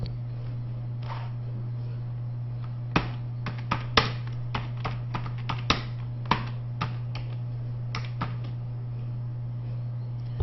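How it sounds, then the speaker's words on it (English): Irregular clicking keystrokes on a computer keyboard as a title is typed into a spreadsheet, moderately close, over a steady electrical hum. "Now we want to type the title."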